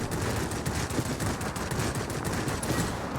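Aircraft machine guns in World of Warplanes fire in a dense, continuous rattling burst, loud and sustained throughout with rapid overlapping shots.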